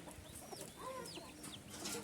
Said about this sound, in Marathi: हे पूर्ण कोंबड्याचं शेड आहे